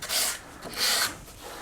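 Sandpaper wiped lightly over a carved wooden breadboard with a wheatear design: two soft, close rasping strokes, each under half a second, with no voices.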